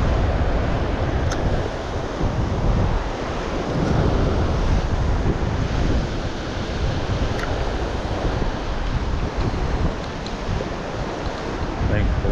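Ocean waves crash against a sea cliff in a continuous roaring wash of surf mixed with wind buffeting the microphone, loud and sustained throughout, with no speech.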